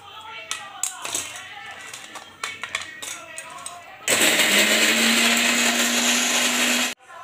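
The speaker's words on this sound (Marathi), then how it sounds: "आता हे दळते मी" An electric mixer grinder blends roasted onion and coconut into a paste with ginger-garlic, tomato and herbs for crab curry, a loud close whirring roar for about three seconds after clattering kitchen handling sounds, then cutting off abruptly.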